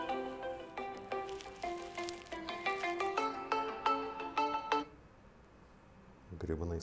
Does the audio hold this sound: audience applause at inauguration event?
no